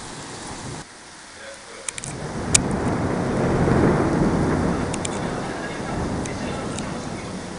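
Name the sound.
thunder during a summer thunderstorm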